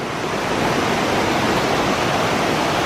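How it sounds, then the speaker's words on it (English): Water rushes down near Mahua waterfall in Tambunan, Sabah, Malaysia, pouring over a forest path toward the river: a steady, loud, close broadband roar with no pauses and no voices. "There's lots of areas like this where the water comes flooding down"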